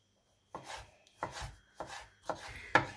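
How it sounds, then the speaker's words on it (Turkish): A knife chops fresh tomatoes on a board during outdoor village cooking, four crisp, separate strikes spaced about half a second apart, close and clear with no talking. "Ben doğrayayım da, hani domates isteyen olursa"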